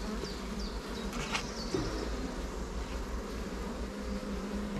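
Many honeybees hum steadily around an opened beehive during a swarm split made by stacking hive bodies, a dense continuous drone with a few individual bees zipping past close by.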